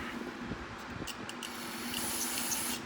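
Lawnmower carburetor parts from a Kohler engine are rinsed with a spray, a soft, steady hiss lasting a few seconds at a fairly low level, with no voices.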